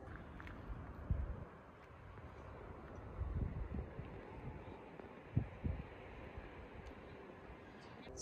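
Wind gusts buffet the microphone at a lakeside campsite, a low rumbling roar with a few sharper thumps, fairly quiet and steady with no talking.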